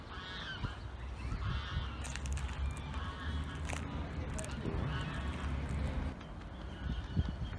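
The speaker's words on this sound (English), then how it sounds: "Hope you can see the ducks on the tree." Ducks call over and over in a lakeside city park in Auckland, honking and quacking at middle distance in a steady, overlapping stream with faint voices in the background.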